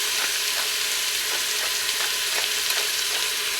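Beef sautéing in a pan gives a loud, constant sizzle with faint, regular ticks and pops, close by and with no voices.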